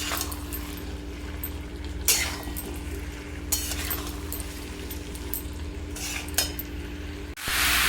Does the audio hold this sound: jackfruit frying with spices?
yes